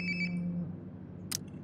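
A mobile phone ringtone chirps in Life is Strange: Before the Storm, a short repeating electronic tone at moderate level that stops partway, with a low hum beneath and a brief click near the end.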